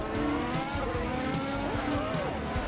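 Formula 1 race car in a racing video game braking hard into a corner, engine note dropping with tyre scrub and skids, steady and loud with commentary voices running over it.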